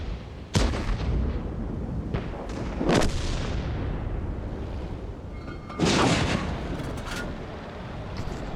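Tank guns fire in World of Tanks as three heavy booms at irregular intervals over a constant rumbling battle background, with no talking.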